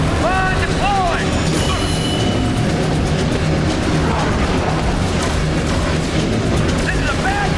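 Rocket turret blasts rumble through a firefight in The Bureau: XCOM Declassified, a dense continuous roar of booms and explosions under shouted squad callouts and radio chatter.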